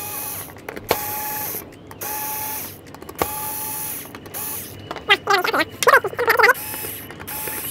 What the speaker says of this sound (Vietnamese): bây giờ thì mình nghĩ là mình quyết định sẽ đổi sang tua vít máy hơn, bởi vì nó hơi chặt so với những gì mà mình tưởng tượng